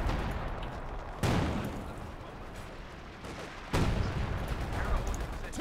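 Heavy artillery gun in Company of Heroes 2 fires two loud, booming blasts a few seconds apart, each with a rumbling decay over continuous battle noise.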